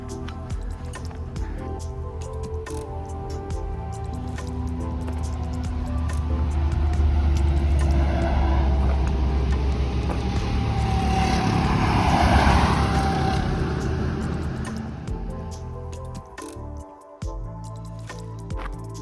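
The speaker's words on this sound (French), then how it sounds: "Et juste après, il y aura l'autoroute A4." Traffic on the A4 motorway swells as vehicles pass, a broad whooshing roar that builds from a distance, peaks twice, and fades again, heard from a nearby walking trail.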